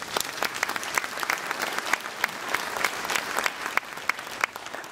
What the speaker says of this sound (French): On peut applaudir aussi la Boule Lyonnaise.